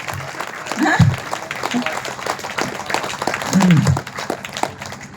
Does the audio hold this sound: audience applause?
yes